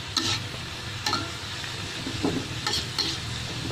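Shredded cabbage being stirred in a hot frying pan, a steady sizzle broken by several scraping strokes of the spatula, close and moderately loud with no voices.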